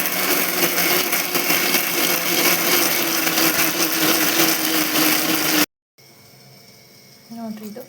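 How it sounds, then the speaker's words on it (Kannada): A kitchen mixer grinder jar whirs loudly and steadily while grinding ingredients, then cuts off abruptly into near silence, followed by faint handling sounds. "ಮಿಕ್ಸಿ ಜಾರಿಗೆ ಹಾಕೋಣ ಒಂದೆರಡು ಸಲ ಗಿರ್ರನ್ನು ತಿರುಗಿಸಿ ತೆಗೆದುಬಿಟ್ರೆ ಸಣ್ಣ ಆಗಿಬಿಡುತ್ತೆ"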